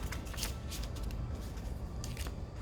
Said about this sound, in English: we'll have to do another shuffle